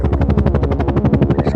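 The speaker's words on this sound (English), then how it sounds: "Some weird ghetto helicopter." Helicopter flying overhead, rotor blades chopping in a fast, loud, regular thud that stays steady and close, with no voices.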